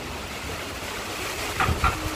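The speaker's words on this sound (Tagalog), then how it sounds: "lakas ng hangin, no?" Strong wind gusting through heavy rain outdoors, a steady broadband roar with a couple of louder gusts near the end.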